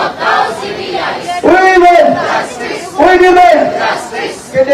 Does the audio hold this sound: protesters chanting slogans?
yes